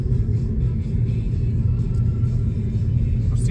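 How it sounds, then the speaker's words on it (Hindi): A car drives through busy UK city traffic at around 30 mph, its engine and road noise a loud, steady low rumble inside the cabin throughout, with no talking. "ये देखो सिटी का ट्रैफिक कैसा है यहाँ पे यूके में"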